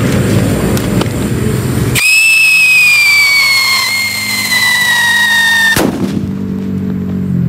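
Whistle bomb firecracker test-fired in the Philippines, a sharp ignition crack followed by a loud, piercing whistle that slowly falls in pitch for about four seconds, then ends in an abrupt bang.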